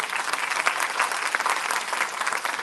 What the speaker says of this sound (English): Let's all of us give a big applause for Borat